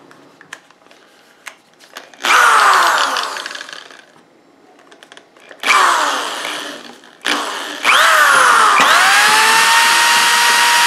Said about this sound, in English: I'm just going to drill a hole in the center of this rim.